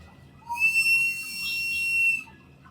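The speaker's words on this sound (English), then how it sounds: "take the bear whistle with you" A shrill, sustained bear warning whistle blast rises abruptly, holds steady for about a second and a half, then cuts off, sounding loud and close.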